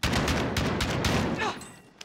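Shotgun fire in the video game Call of Duty: Modern Warfare Warzone, a rapid burst of several loud blasts packed together within about two seconds, then tapering off.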